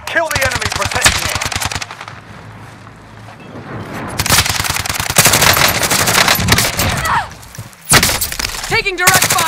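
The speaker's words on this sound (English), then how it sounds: "Taking direct fire" Loud video-game gunfire with rapid machine-gun bursts and heavy impacts, a short lull, then renewed sustained firing, with voices heard amid the shooting.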